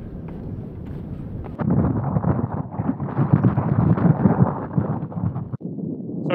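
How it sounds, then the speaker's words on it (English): Strong wind buffets the microphone in heavy, rumbling gusts that swell after a brief calmer start. "as you can tell it's quite windy"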